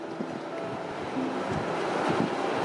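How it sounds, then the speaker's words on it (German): Strong wind roaring steadily, a broad continuous rushing noise that swells slightly toward the end, with occasional low buffeting like wind hitting the microphone; no talking. "Was da so tost, das sind die Bäume."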